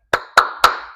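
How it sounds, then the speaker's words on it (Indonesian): Three crisp, evenly spaced hand claps in a quick rhythm for the Tepuk Khadijah clapping game, close and loud with no talk. "Tepuk Khadijah"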